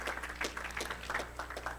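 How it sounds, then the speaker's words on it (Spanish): A church congregation claps in a short, fairly faint burst, with individual hand claps distinct and irregular over a low steady hum. "Dele un aplauso al Señor."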